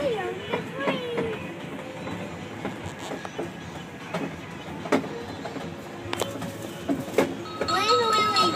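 A ride-on train rolls around an indoor mall with a steady mechanical rumble, clicks and squeaks, heard under voices and chatter from the passengers in a busy, echoing space.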